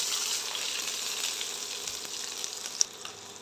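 Onions fry with green chillies and cardamom for paneer tahari, a continuous, close sizzle with a faint watery hiss and a single small clink near the end.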